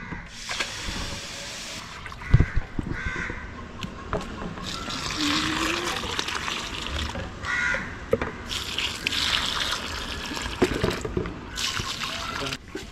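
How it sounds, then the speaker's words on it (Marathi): Water splashing and trickling onto plants in repeated bursts, with crows cawing nearby outdoors. "आता मी झाडांना पाणी घालते"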